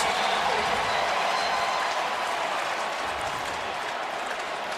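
Stadium crowd roaring during the Eagles at Saints divisional playoff game in New Orleans, a loud sustained wall of cheering that holds steady, with faint commentary blended underneath.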